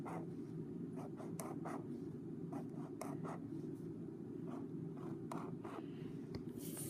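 A pen sketching quickly on paper, soft close scratchy strokes in short irregular flicks over a steady low background hum.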